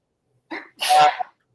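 One close, loud sneeze with a short intake breath, then a sharp burst and quick tail, set in otherwise quiet indoor surroundings.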